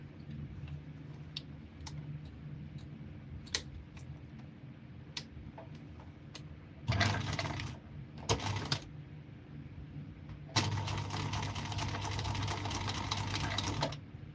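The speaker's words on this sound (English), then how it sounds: "Sew that piece flat, reverse, and then go down." A sewing machine sews a piece flat and reverses, starting with a short burst, pausing, giving a brief second burst, then running steadily for several seconds, with faint ticks and handling noises in the gaps.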